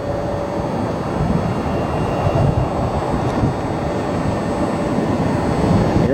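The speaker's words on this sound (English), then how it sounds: "Airbus A320." An Airbus A320 airliner at Cleveland airport produces a steady, broad roaring rumble with wind buffeting, loud and continuous throughout with no talk.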